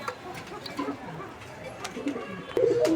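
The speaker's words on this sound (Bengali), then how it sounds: "এক জোড়া ম্যাকপাই কবুতর" A pair of magpie pigeons coo softly at close range, with a few low calls scattered amid faint background chatter and a louder burst near the end.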